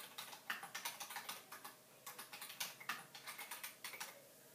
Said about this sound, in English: So I'm clicking on the text button way over here, and then I'm just going to write date night